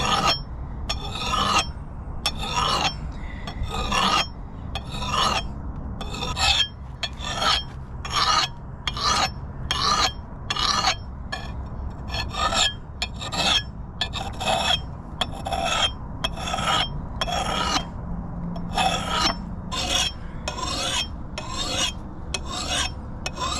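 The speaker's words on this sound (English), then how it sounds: "Now I'm gonna sharpen the axe. All I'm gonna be using is this file here and a stone." A hand file rasps across a steel axe head in rhythmic strokes, about twenty close, loud scraping passes at an even pace with brief pauses between them.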